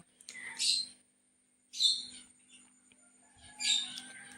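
Three short bursts of high, chattering chirps from green opaline Fischer's lovebirds, separated by quiet pauses, calling close by.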